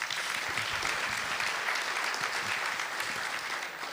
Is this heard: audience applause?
yes